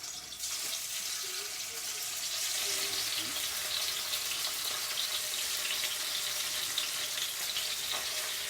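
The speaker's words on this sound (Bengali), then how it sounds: "আমি মাছ ভেজে নিব।" Fish frying in a pan gives a steady, loud, close sizzle that holds evenly throughout with no talking.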